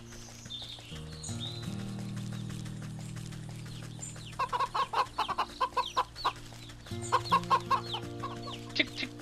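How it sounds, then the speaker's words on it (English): Chickens in the video game Wytchwood cluck in quick repeated bursts over a looping, tuneful game score, the clucks clear and close in two runs, without talk. "Chick chick chicken, chick chick chicken."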